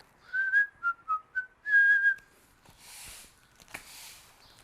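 Someone whistles a short, bouncy tune of several quick notes and one held note, followed by soft rustling and faint background noise.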